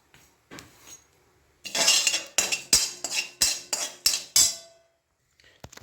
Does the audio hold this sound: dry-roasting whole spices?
yes